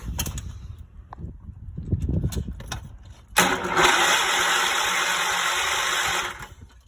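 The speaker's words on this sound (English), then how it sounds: "all I want to do for this first test is crank the engine and see if we can get some spark" Low rumbling and scattered clicks give way to a sudden loud, steady whirring as a John Deere 216 lawn tractor engine cranks over for about three seconds, then stops.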